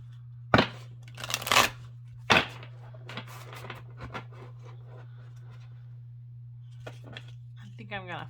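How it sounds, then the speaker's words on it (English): Oracle cards are shuffled by hand in short, crisp riffling bursts spaced a few seconds apart, close and clear against a steady low hum, with brief quiet gaps between them. "They actually shuffle really well."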